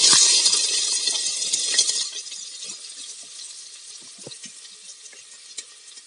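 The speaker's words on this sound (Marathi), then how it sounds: "आता इथे कुकर मध्ये मी तेल गरम करायला ठेवले. तेल गरम झालेलं आहे. आता याच्यात कांदा टाकून घेते." Onion frying in hot oil inside a pressure cooker, a loud, dense sizzle with stirring scrapes and small clinks, easing to a steadier, softer crackle after the first couple of seconds.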